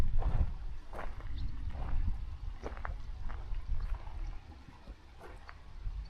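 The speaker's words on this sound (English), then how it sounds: "Sounds like a waterfall. It's probably just a creek." A creek or small waterfall pours down into a lake in the mountains, giving a steady broadband rush of water with gentle splashes, moderately close and unbroken throughout.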